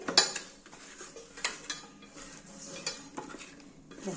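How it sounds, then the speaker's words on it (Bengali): Six eggs being mixed with salt and turmeric in a bowl, giving light repeated clinks and scraping stirs of utensil against the dish, close and fairly quiet, with no voices. "আমি নুন হলুদটা মাখিয়ে রেখে দিচ্ছি।"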